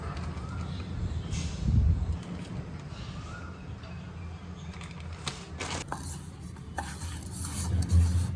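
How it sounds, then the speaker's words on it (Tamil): Eggless cookie dough made with urad dal flour and wheat flour is mixed by hand in a bowl, giving continuous soft scraping and stirring, close by, with an occasional light utensil knock. "ஸோ இதையும் நல்லா மிக்ஸ் பண்ணி டோ ப்ரிப்பேர் பண்ணிக்கலாம்."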